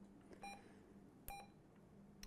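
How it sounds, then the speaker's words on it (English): Short electronic key beeps from a President Walker III CB radio, a couple of quick high tones repeating a few times over a low hum, close and fairly quiet with no voices. "Key beep, on or off."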